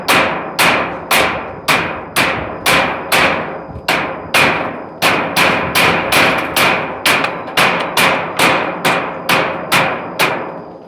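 Steady series of sharp hammer blows driving nails into wood while roofing a hut, roughly two strikes per second, loud and close with ringing decays, no talking.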